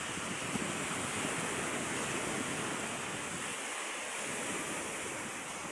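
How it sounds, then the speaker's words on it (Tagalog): Strong ocean waves at high tide crash on a beach beside a ruined hut, a continuous loud roar of surf mixed with wind buffeting the microphone, steady throughout with no voices. "lakas ng alon dito"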